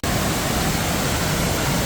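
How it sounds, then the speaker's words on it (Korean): A waterfall near Dalat, Vietnam, a modest-sized fall, gives a steady, dense rush of falling water that stays loud and unbroken throughout, with no voices. "이 폭포가 엄청 크진 않아요"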